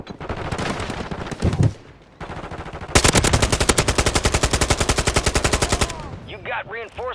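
Automatic gunfire in the video game Warzone, likely a Glock or Draco: a loud burst, a brief pause, then about three seconds of rapid, steady close-range fire, ending in a few ringing metallic clinks.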